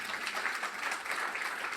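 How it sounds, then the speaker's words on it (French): An audience claps for a pastry chef after she finishes a small cake, brief steady applause at moderate level with no talking. "Moi, je veux bien qu'on applaudisse Johanna pour le"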